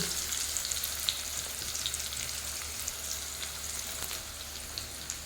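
Chopped potatoes fry in a pan for homemade chow mein, a soft continuous sizzle with faint crackles and light spits, quiet and even throughout.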